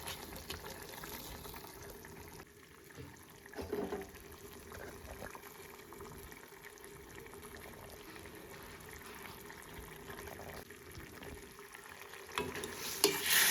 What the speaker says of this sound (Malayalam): മീൻ നല്ലോണം ഇളക്കിയിട്ട്